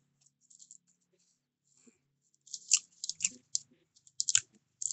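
Someone bites and chews crunchy Leanet Fuji barbecue potato chips, a few faint crackles at first, then a cluster of close crisp crunches.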